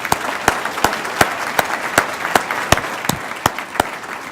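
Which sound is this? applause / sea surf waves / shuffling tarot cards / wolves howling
applause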